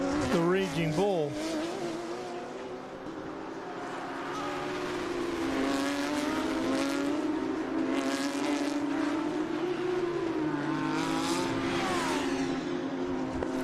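Race cars, among them a Porsche and an Audi, speed around the VIRginia International Raceway track in a SpeedTour race. Engines rise and fall in pitch as the cars pass close, and a commentator speaks over them.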